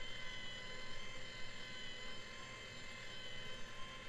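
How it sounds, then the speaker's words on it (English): A Bubble Magus kalkwasser stirrer motor for a reef tank runs with a steady, loud mechanical drone, a buzzing, whirring hum that continues without change. "the motor's pretty loud, like really loud"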